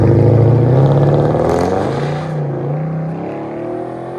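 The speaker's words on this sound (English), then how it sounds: "Massive V8 motor." An Infiniti Q70 Sport with a 5.6-litre V8 revs loudly and close through an aftermarket exhaust. A deep, rumbling burst falls away into a lower, throaty idle.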